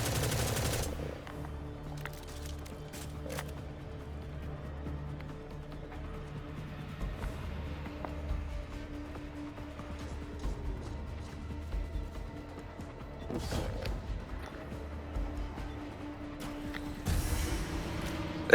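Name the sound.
gunfire in the video game Destiny 2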